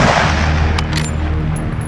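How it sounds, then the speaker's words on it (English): Report of a 300 Winchester Magnum rifle fired at a shooting range, heard as one loud, sustained rumbling blast that stays broad and heavy through the clip, with no talk. "one of the 300 Winchester Magnums is fired, there's no questioning what just went off next to it"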